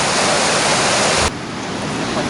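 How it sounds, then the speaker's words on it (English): The Kengarka river in Siberia rushes steadily as a loud, broadband wash of flowing water, dropping abruptly to a softer, more distant roar midway through, with no voices. "this is the river Kengarka"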